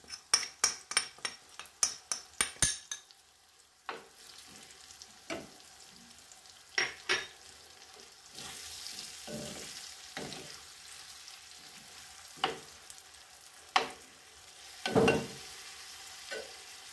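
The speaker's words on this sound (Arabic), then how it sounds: "دابا تحمروا لنا هاد الطريفات ديال الصدر ديال الدجاج" Chicken breast pieces browning in a tagine give a soft sizzle, broken by quick clinks and taps of a utensil early on, then scattered scrapes and knocks against the pot.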